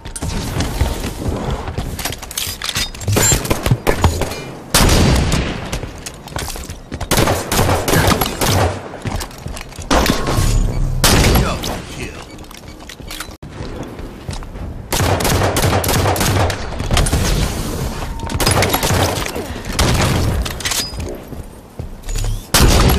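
Continuous rapid gunfire from a Halo game match, loud and dense, with bursts of automatic fire, rattling shots and occasional heavy booms running almost without a break.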